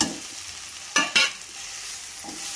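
Masala of tomato and spice powder being stirred in a pan while it fries, a soft scraping with two sharp louder strokes near the middle and a faint sizzle underneath, close by and with no talk.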